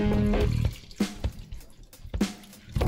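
Milk pours and splashes into a pan with browned ground meat for Hamburger Helper Four Cheese Lasagna, a close, uneven liquid gurgle that thins into sporadic drips and plops.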